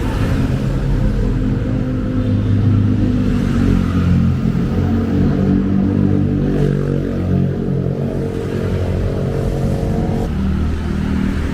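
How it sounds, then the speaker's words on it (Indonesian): A TransJakarta city bus passing at night, a loud steady engine rumble and drone holding for the whole stretch, close by with no talk. "itu ada bus Transjakarta"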